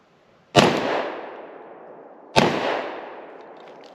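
Two loud, sharp gunshots from a Glock pistol chambered in .357 Sig firing 124 grain jacketed hollow points, spaced about two seconds apart, each trailing off in a long outdoor echo.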